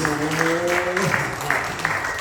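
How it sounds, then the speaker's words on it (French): A church congregation claps together during a sermon, a dense run of rhythmic clapping with a voice calling out over it. "Applaudissez Jésus. Clap for Jesus."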